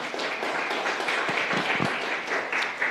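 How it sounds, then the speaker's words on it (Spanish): A church congregation claps in praise, a dense steady round of applause from many hands filling the space for the whole moment. "Dele una ofrenda de palmas al Señor."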